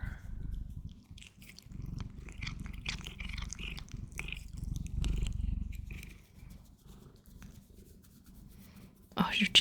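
A pet cat purrs steadily up close while being stroked, a low continuous rumble under soft, murmured talk, with a brief louder rustle at the very end.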